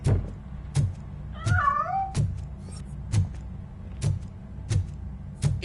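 A fleeing cat gives a brief meow in Robocop Rogue City, heard once amid regular heavy thudding footsteps over a low rumbling background.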